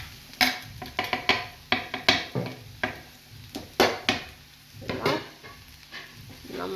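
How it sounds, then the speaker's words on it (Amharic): Cauliflower goes into a pan of frying onions for a burrito filling, with a series of sharp spatula scrapes and clatters over a soft, constant sizzle, close by and without talk. "ከዛ አሁን ደግሞ ሽንኩርት ይሄን ያህል ከበሰለልን በኋላ የአበባ ጎመኑን እዚህ ላይ ጨምረዋለሁ።"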